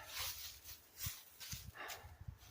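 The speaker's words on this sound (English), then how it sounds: "I can actually think I can hear the dogs in the background." Dogs bark far off in the background, a few faint, scattered barks and yelps spaced irregularly across a quiet outdoor scene.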